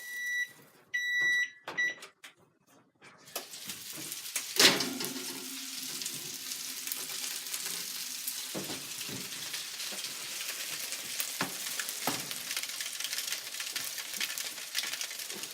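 Korean BBQ chicken wings sizzling in a pan, with a sharp clatter as they are flipped, then a continuous crackling fry with occasional pops; a few faint beeps precede it.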